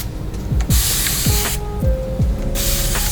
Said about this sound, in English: Let's go ahead and spray this down with water.